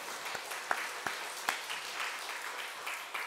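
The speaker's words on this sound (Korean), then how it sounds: "하나님께 영광의 박수 돌려드리겠습니다." A church congregation applauding during a service, dense steady clapping from a crowd with a few sharper claps standing out, held for a few seconds.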